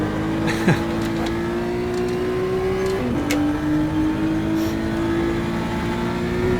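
A BMW M2 CS in the racing game rFactor 2 droning at steady engine pitch on the Nürburgring Nordschleife, with a brief gearshift dip midway and a continuous loud drone throughout, no talk.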